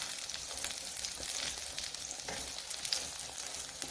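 A potato and egg crepe fries in an oiled pan, giving a steady, close hiss of crackling sizzle with small pops and no pauses.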